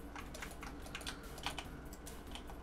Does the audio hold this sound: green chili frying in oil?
no